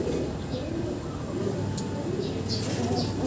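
Racing pigeons coo in a low, throaty, repeated burble close by, with soft overlapping calls from several birds forming a steady murmur.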